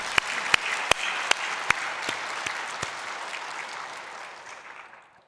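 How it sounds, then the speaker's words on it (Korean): A church congregation applauds in praise, a few sharp, separate claps at first blending into a brief burst of crowd clapping that fades out after several seconds. "우리 하나님께 영광의 박수 올려드립니다."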